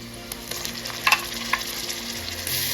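Onions with ginger-garlic paste frying in a pan for sultani dal, giving a steady close sizzle with a few stirring scrapes and clinks, no talking.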